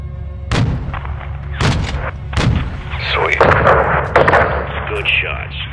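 Air support gunfire raining on a convoy in Call of Duty Modern Warfare 2, three heavy booming cannon shots in quick succession followed by a dense rolling stretch of impacts and explosions, loud and close, with radio voices mixed in.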